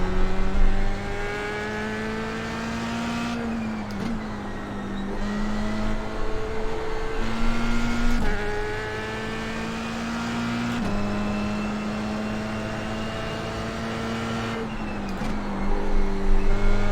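Race car engine in the iRacing sim game holds steady harmonic tones, dropping sharply at each gear change and climbing again, loud and continuous throughout with no voices.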